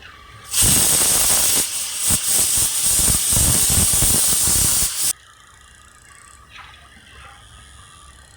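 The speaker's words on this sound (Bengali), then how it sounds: "6টা সিটি হয়ে গেছে" A pressure cooker whistle blasts loud and steady with hissing steam for several seconds while dal cooks, then cuts off, leaving quiet kitchen background.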